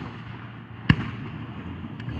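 A Fourth of July fireworks display: one sharp, fairly distant bang stands out over a low background murmur, followed by a fainter pop a moment later.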